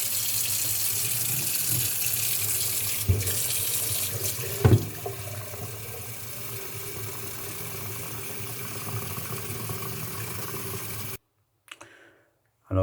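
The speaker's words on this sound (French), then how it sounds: "allons donc mettre de l'eau chaude dans la cuve" Hot water from a tap runs steadily into a tank as part of preparing a kit, a continuous close hiss and splash with a couple of clicks, cutting off near the end.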